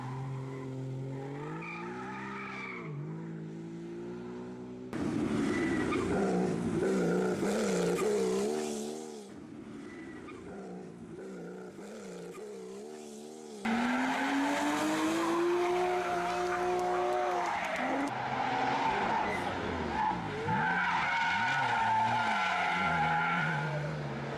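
Classic race cars, including Alpines, Opel Manta Bs and British Austins and Triumphs, climbing a 9 km hill climb through hairpins, engines revving and rising in pitch with tyre noise, while a narrator speaks over them.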